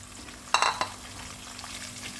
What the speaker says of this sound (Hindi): अब हम इसमें टमाटर ऐड कर देंगे 2।